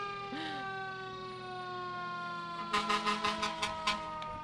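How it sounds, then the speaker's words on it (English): A fire engine siren at a Fourth of July parade blares as a loud, sustained wailing tone close by, joined by a series of sharp bursts in the last couple of seconds. "there's no way to compete with a fire engine siren"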